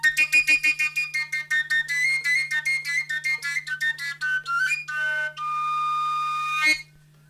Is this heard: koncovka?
yes